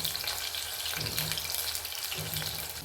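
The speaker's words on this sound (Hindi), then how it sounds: "हमने ये तेल गरम कर दिया है। अभी हम इसमें लहसुन डालेंगे।" Pieces of garlic sizzle and crackle in hot oil in a pan while cooking Sindhi-style gawar phali sabji, a steady, close frying hiss with no talking.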